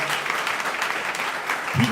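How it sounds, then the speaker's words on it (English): Applause from an audience at a county meeting between farmers and local officials, a brief burst of dense clapping with voices audible over it. "Let's give him another round of applause."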